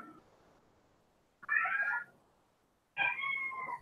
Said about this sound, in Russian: слышно, как кот завывает.